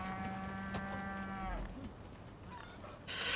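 Cows moo in Resident Evil 4 Remake: a clear, sustained low bovine call fills the first second and a half, followed by quieter ambient game sound and a brief bright noise at the end.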